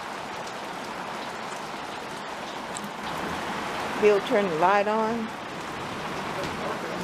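Steady rain patters on a desert front porch at dusk, a constant soft hiss with a brief squeaky sound rising midway and a person speaking over it.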